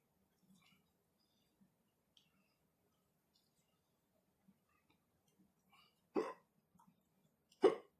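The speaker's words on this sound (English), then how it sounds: "Instant hiccups." Two sharp hiccups, close and fairly loud, come near the end after tasting a very hot sauce, following a quiet stretch with only faint small noises.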